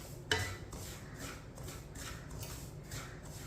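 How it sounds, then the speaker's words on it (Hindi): A spoon scraping and stirring sifted semolina (suji) in a pan over a low flame, faint rhythmic scratching strokes repeating steadily after one sharper clink of metal at the start. "मिक्स कर लेंगे। चम्मच ला लेंगे सूजी में।"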